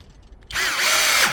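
A HOTO cordless power drill spins up sharply after a brief quiet moment and then runs at full speed with a steady high whine, loud and close.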